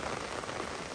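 Rain falls steadily in a forest setting, a dense, even patter of drops on surfaces lasting the full second with no voices.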